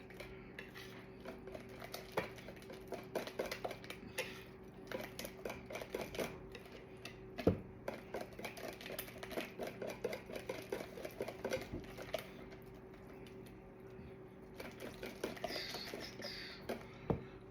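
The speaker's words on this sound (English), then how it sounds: "I'm going to start using my whisk because I want my eggs to be whisked in" A wire whisk beats eggs in a bowl while making banana bread, a rapid, steady patter of light metallic ticks and scrapes with a faint background hum throughout.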